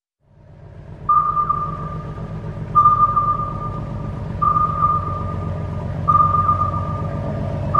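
A submarine's sonar pings sound again and again, each sharp ping ringing out about every second and a half over a deep, steady underwater rumble, with no voices.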